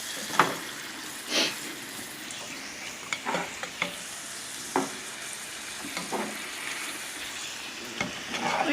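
Taco filling is stirred in a frying pan, giving a steady low sizzle broken by scattered scraping and clinking strokes of the spoon, close and moderately loud with no talking.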